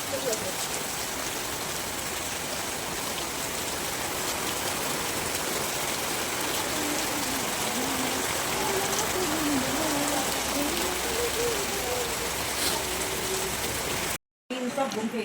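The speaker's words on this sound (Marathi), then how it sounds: "कोकणातला पाऊस बघा किती जोरदार आहे" Heavy monsoon rain in the Konkan region pours down in a dense, unbroken roar close by, with faint voices now and then beneath the downpour.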